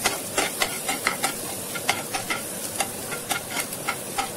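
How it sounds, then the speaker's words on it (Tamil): Onion, green chillies and curry leaves sizzle in oil on a tawa while frying for an egg pepper fry. A steady hiss runs throughout, with rhythmic scraping stirs every half second or so, close up and with no voices. "ஒரு வெங்காயம், 2 கிரீன் சில்லி, கொஞ்சம் கருவேப்பிலை எல்லாத்தையும் போட்டு நல்லா வதக்கிக்கோங்க."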